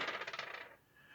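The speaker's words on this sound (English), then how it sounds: "if you're rolling a very large number of dice" Many dice rattling and clattering together as a large handful is rolled for a tabletop Shadowrun game, a quick burst of close clicks that settles and fades within a second.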